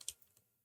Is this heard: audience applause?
no